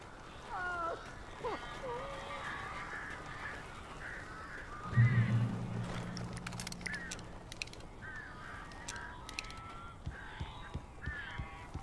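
Crows cawing inside a house in the video game Alan Wake Remastered, repeated harsh caws scattered throughout, with a brief louder low thump partway through and faint speech in between.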